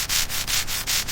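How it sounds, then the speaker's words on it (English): Steady rhythmic sanding of cured epoxy resin on a tabletop, with a hiss that swells and fades in regular back-and-forth strokes, close and continuous. "Fine white resin dust coats everything as we sand."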